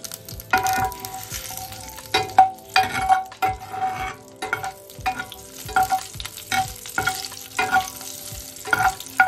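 Slit green chilies and asafoetida tossed into hot oil with whole garam masala for a tempering, crackling and sizzling loudly up close while a spatula stirs and clinks against the pan in repeated strokes.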